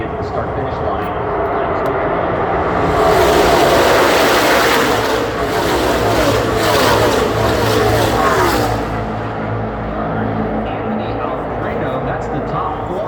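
NASCAR Xfinity series race cars roar around the banked Talladega oval in a loud, dense engine drone that swells as the pack passes and fades, with a commentator talking over it.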